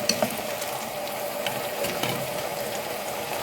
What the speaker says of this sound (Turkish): Şimdi ilk önce patatesleri güzelce kızartıyorum.